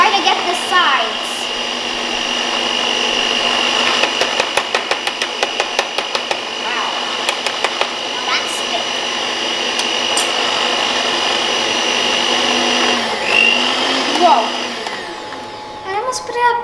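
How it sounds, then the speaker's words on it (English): Lemon drizzle cake batter being whisked by hand in a bowl, a steady scraping, whirring texture with brief rhythmic clicks of the whisk against the sides, fairly close and continuous. "So now I'm gonna whisk it for a little bit."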